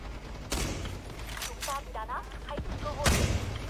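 Gunfire in the online shooter game Truy Kich comes as sharp bursts of rapid shots with loud cracks, the biggest near the start and end. A player talks over the shooting.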